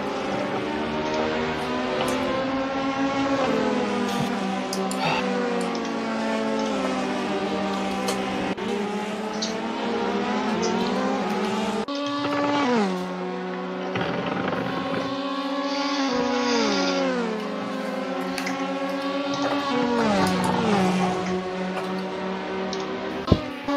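Race car engine in a GT2 racing video game at Paul Ricard, loud and continuous throughout, its pitch climbing and dropping with gear changes and braking, with tire squeal mixed in and no talk over it.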